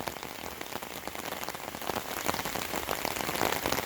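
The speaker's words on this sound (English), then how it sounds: "you can hear the rain on the umbrella, and the world is being cooled down" Rain patters densely on an umbrella during a summer storm, a steady close hiss of countless drops that grows slightly heavier toward the end, with no voices.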